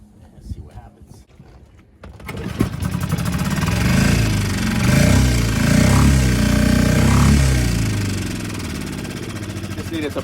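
A Hangkai outboard motor, freshly repaired at the carburetor, starts after a quiet opening and keeps running loud and steady at close range, its pitch swelling slightly as the throttle is worked, with voices talking over it.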